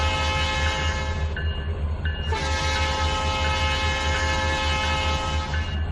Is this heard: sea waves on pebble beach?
no